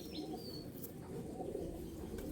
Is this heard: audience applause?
no